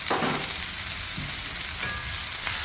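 Brussels sprouts fry in clarified butter on a Traeger flat top grill, giving a steady, close crackling sizzle with a few small pops and no talk.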